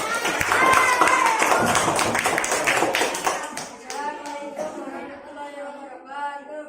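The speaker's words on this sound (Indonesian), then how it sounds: "Ayo tepuk tangan yang mana?" Students in a classroom clap to welcome a group, several seconds of rapid, fairly loud clapping that fades as voices take over.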